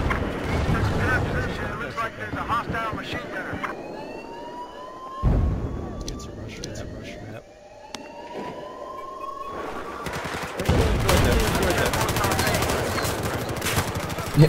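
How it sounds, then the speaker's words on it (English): Machine gun fire in the video game Battlefield 4 on the snowy Monastery map, bursts of rapid shots amid explosions and a wailing siren-like tone, busy and loud throughout, with in-game effects layered over each other. "Looks like there's a hostile machine gunner."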